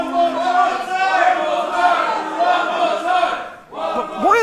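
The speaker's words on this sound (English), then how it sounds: "Why are they cheering?" A wrestling crowd at an IWN World Championship Super 8 show cheers and chants loudly, a sustained roar of many voices that dips briefly near the end before rising again.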